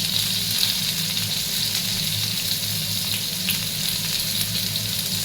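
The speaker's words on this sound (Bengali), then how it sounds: "তেলটা গরম হলে এবার আমগুলোকে ছেড়ে দেবো তেলের ওপরে" Mango pieces fry in hot oil for a mango jelly chutney, giving a steady, close, even sizzle with a watery hiss that runs the whole time without a break, and no voices.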